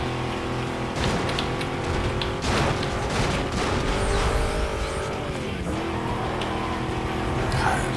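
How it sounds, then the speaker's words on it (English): A V8 car engine revs hard in the racing video game Need for Speed Most Wanted, a loud steady roar with shifting pitch and brief tire squeals that fills the whole stretch without a pause. "Just that V8 sound, man, you gotta love it."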